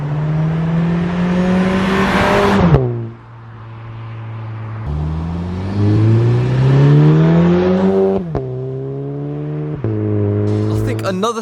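A car fitted with a new Cobra aftermarket exhaust revs hard during a drive, its engine note climbing, dropping sharply at each gear change, then rising again, loud and close, with a voice briefly heard over it.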